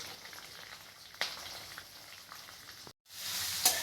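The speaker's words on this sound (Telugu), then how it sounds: "ఫ్రై చేసుకోవాలి ఇవి ఫస్ట్ తర్వాత సన్నగా తరుపుని ఉల్లిపాయలు దానిలో వేసుకోవాలి" Thinly sliced onions fry in a pan for an egg curry, giving a steady broadband sizzle with a brief louder crackle partway through, a short drop to silence near the end, then the sizzle resuming loudly.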